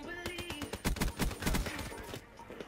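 Black Ops 3 multiplayer gunfire rattles in a quick burst of sharp, loud shots, roughly a dozen rapid reports, then trails off into quieter game ambience.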